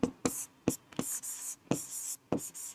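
Pen scratching across paper during a handwritten maths solution, short quick bursts of strokes with brief pauses between them, close and fairly quiet.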